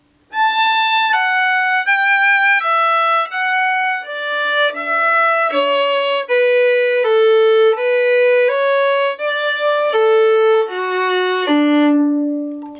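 Solo fiddle plays the closing phrase of the reel Drowsy Maggie, a quick run of bowed notes stepping downward and ending on a long held low note, with no talking over it.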